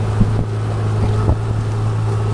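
A motorboat runs on Koyna lake at Tapola near Mahabaleshwar, Satara, its low, steady engine drone mixed with wind buffeting the microphone, continuous and fairly loud, with no voices.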